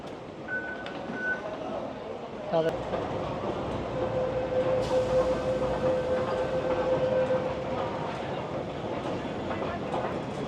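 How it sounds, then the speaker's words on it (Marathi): Train at a railway station in Hong Kong, a steady rumbling platform ambience with rolling wheels and a brief sharp clatter partway through, plus sustained electronic tones, at moderate loudness throughout. "तरी बघा ही ट्रेन."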